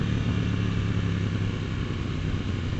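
A KTM 790 Duke motorcycle rides around Lake Garda, Italy, with a steady, loud, close exhaust drone and engine rumble throughout.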